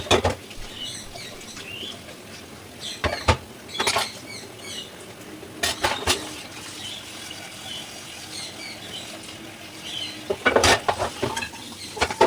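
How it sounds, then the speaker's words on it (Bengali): Dishes being scrubbed and washed by hand, with water trickling and soft scraping punctuated by several sharp clinks and knocks of utensils at uneven intervals, close by and moderately quiet. "সেগুলো মেজে নেব।"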